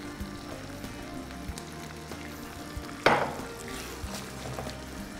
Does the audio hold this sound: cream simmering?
yes